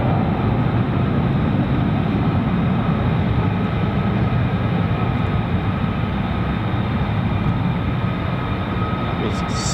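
A military fighter jet at a US Air Force base in England roars past with afterburner, a loud, steady, broadband rumble filling the whole stretch with no break, close and powerful.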